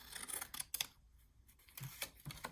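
Scissors snip through paper to cut a small folder for a tag flip craft, a few quick crisp cuts in two short bursts separated by a brief pause, close and fairly quiet with no talking.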